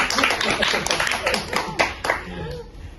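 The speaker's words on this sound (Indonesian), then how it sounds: "boleh tepuk tangan dulu dong buat Pak Sofian." An audience claps for a guest at a talk-show-style sharing session, a brisk, fairly loud run of rhythmic hand claps that eases off toward the end, with voices underneath.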